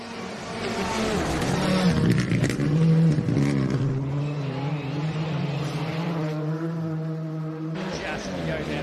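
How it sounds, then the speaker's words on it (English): A rally car engine screams at high revs on a rally stage in Gippsland, Australia, pitch climbing and dropping through gear changes, loud and sustained with some wind and road noise. "Let's listen to a full attacking Hayden Paddon through this stage."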